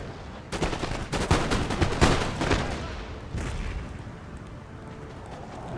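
Dense cannon and musket volleys from artillery in the strategy game Empire: Total War, a defence of Athens, with repeated sharp blasts in a rapid, irregular barrage that swells and then trails off into a rumbling battlefield background.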